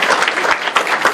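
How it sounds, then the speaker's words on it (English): A crowd at an annual Thanksgiving gathering applauds, a brief, loud, dense patter of many hands clapping. "So please give her a round of applause."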